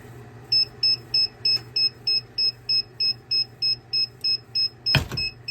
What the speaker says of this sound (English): I'm going to let it go another 30 seconds after it beeps.